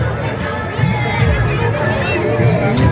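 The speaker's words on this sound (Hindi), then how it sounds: "देखियौ भीड़ लोकके।" A dense, loud crowd murmurs and chatters at a Yagya fair, a Mithila mela, a constant babble of many voices close by with no single speaker standing out.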